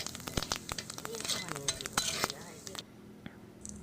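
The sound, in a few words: bay leaves and cumin frying in oil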